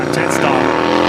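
A Jetstar airliner passes noisily near Brisbane Airport, a loud, steady, broad roar filling just over a second.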